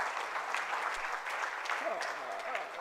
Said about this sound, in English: give them a big round of applause who have come from all the corners of Goa